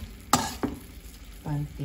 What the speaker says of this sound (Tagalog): ilalagay na din po natin siya ng tomato sauce. Ayan. Ayan. So, ayan, haluin lang po natin para mag-blend po